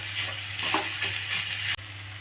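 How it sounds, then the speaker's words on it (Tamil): Vegetables for wheat rava kichadi sauté in a pan over high flame with a steady, close sizzle and faint stirring. The sizzle cuts out abruptly near the end. "ஹை ஃப்ளேமில் வச்சு நல்லா வதக்கிக்கோங்க."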